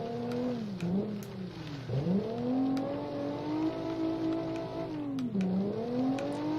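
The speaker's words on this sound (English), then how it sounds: "And then we attempt to go forwards and just burn the rear wheels off instead." Corde ST-201 spinning its rear wheels on a gravel Pikes Peak hillclimb in BeamNG.Drive, the engine note climbing and dipping in repeated revving swells, loud and continuous throughout.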